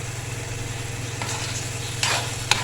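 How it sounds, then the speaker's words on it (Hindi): Grated carrot for gajar halwa roasting in desi ghee in a pan, a steady low sizzle and hiss with soft stirring scrapes and a couple of brief louder clinks near the end, no talking. "अब भूनते हुए मैं इसमें ऐड करूँगी देसी घी।"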